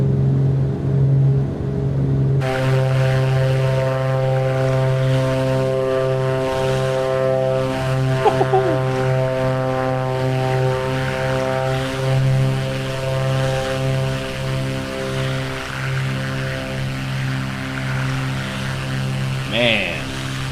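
A propeller airplane engine in Microsoft Flight Simulator drones loudly and steadily for a long stretch during the climb out of Raleigh with the mixture set full rich. The tone is a constant buzzing hum that shifts slightly only near the end.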